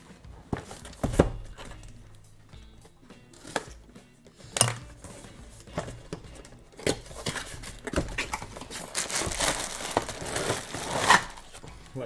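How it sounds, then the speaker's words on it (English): Empty plastic bags being crinkled and shoved aside while unboxing miniatures, a long stretch of loud, close, irregular rustling and crackling with occasional thumps. "So, got loads of empty plastic bags."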